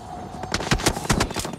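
A short burst of rapid gunfire in the video game BGMI, several sharp cracks in quick succession, close and loud, with no voices.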